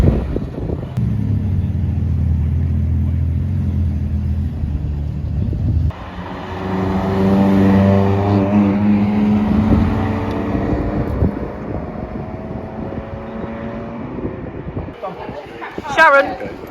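McLaren sports cars pulling away from a car meet that also has modified cars and Abarths: a low engine rumble, then rising revs and a steady drone as they accelerate off, with people talking over it throughout.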